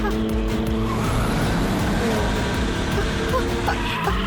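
Speeding tanker truck in a Kicko & Super Speedo cartoon, a steady loud engine roar with faint tire squeal, heard alongside cartoon music and speech.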